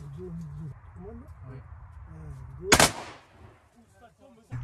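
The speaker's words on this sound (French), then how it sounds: "on tire à 4 fusils" Four shotguns fire a volley at wood pigeons landing in a plane tree during a hunt: one sharp, loud crack-like blast in the middle, with low voices murmuring before and after.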